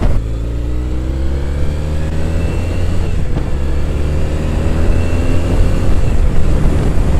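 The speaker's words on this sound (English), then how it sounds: "That engine is a sound that I think we're going to be losing in years to come." A Triumph Thruxton motorcycle engine while riding, a loud, close, steady drone with smooth pitch shifts as the revs climb and settle, alone with no talking.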